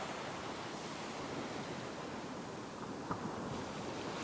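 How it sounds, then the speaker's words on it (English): Ocean waves breaking and dumping on a shallow beach shore by a sandbar, a constant broad roar of surf with a slightly sharper splash near the end, no talking. "So obviously waves break where it's shallow. This shore dump still has a bit of power in it."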